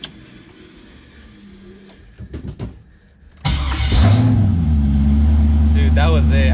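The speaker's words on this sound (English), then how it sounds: "I'm just gonna try to turn on the car now." A drift car fitted with CX Racing headers cranks in a few quick bursts of the starter, then its engine catches and settles into a loud, steady idle close by. Faint speech comes before the start.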